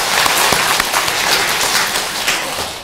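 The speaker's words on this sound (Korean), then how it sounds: "박수 한번 쳐요!" Audience clapping together during a Buddhist dharma assembly in a temple hall, a dense, steady burst of many hands that holds for a few seconds without talk.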